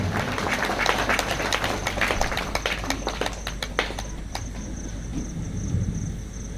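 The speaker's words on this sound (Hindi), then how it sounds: "एक बार सभी एक दूसरे के लिए तालियों की गड़गड़ाहट करें" Audience applause at a spiritual discourse gathering in Latehar, Jharkhand: a steady, dense wash of many hands clapping, fairly loud and sustained, gradually thinning toward the end.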